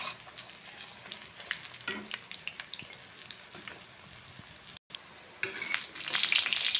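Chopped onions frying in a pan, with a continuous light sizzle broken by stirring scrapes and taps, swelling into a louder hiss near the end.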